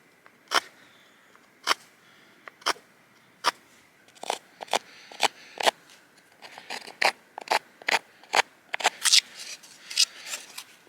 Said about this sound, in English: I'm going to cut my notch.